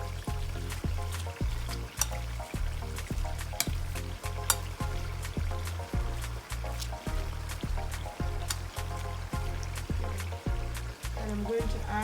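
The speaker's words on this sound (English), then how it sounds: "I'm going to fry that for 2 minutes before I add the onion in." Chopped onion with a spoonful of Dijon mustard sizzles steadily in a hot pan, a continuous close crackle with occasional stirring, over a regular low thumping beat.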